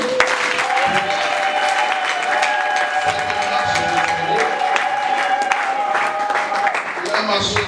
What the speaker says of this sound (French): j'aimerais que nous applaudissions aussi pour lui-même